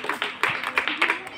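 A small group of people claps hands around a street magician, with several uneven bursts of close, sharp claps in quick succession and voices mixed in.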